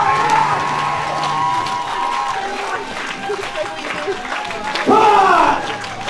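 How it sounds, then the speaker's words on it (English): Wrestling show crowd at Sacrifice Pro Wrestling clapping and cheering steadily, with a louder swell of whoops near the end and voices shouting through the noise. "Where's the clapping gone?"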